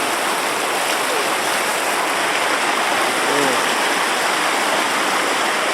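Steady broadband rush of a small mountain stream at the source of a river, loud and continuous throughout, with no pauses.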